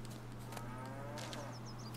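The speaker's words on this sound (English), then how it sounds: "And a cow!" A cow moos in The Witcher 3 video game, a single drawn-out low call over a steady droning game soundscape with faint high chirps near the end.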